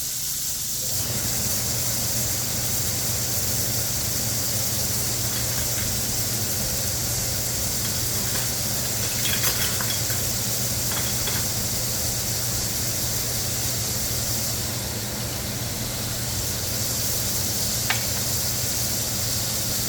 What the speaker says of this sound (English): I'm gonna turn on the vent fan of my microwave to prevent my house from getting all smoked out